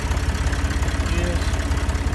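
Farm tractor engine idling nearby, a loud, low rhythmic chugging with even pulses, steady throughout the short clip.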